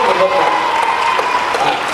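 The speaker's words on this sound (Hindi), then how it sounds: "इस बात पर आपकी तालियां चाहिए।" Audience applause at a Hindi poetry gathering (kavi sammelan) in Sirsaganj, a continuous loud wash of clapping from a large crowd lasting a couple of seconds.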